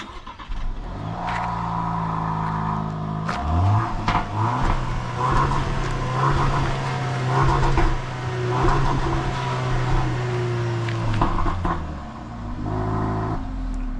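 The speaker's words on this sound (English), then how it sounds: "Defender made some good noise there." A Land Rover Defender with a 2-litre petrol engine idles and then revs up repeatedly, the engine note rising and falling in strong close bursts before settling back to idle.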